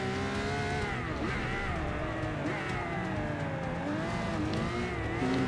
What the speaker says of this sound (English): Alright, second gear, third gear. Yeah, second gear is good for this corner.